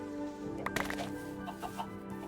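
Chickens in the video game Minecraft give a few short clucks over a steady background hum of game sound.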